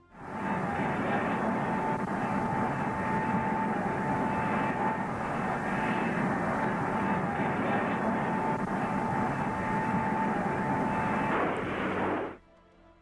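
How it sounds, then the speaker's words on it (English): A converted North American B-45 bomber carrying an experimental jet engine in a belly nacelle climbs away on its 1955 test flight, a loud steady engine roar with a sustained whine that holds for about twelve seconds, then cuts off abruptly. "Historic footage captures the modified B-45's ascent on May 20th, 1955."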